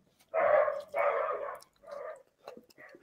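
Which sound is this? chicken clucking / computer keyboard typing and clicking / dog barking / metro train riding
dog barking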